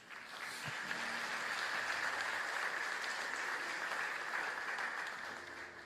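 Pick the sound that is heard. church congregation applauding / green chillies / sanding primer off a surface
church congregation applauding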